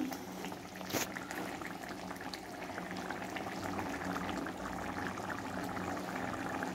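Rice boiling in a covered pot on the stove, a steady bubbling simmer with soft lid rattles and one brief sharp clink near the start.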